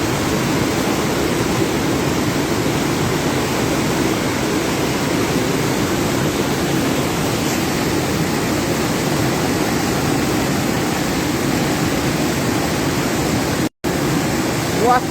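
Floodwater rushing through part of Grenada, a steady, dense roar of churning water that fills the whole clip without pause, with a brief dropout near the end.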